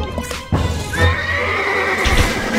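A horse in the video game Stronghold Crusader neighs in a long, bright whinny, close and loud, after a brief thump and some hoof-like knocks.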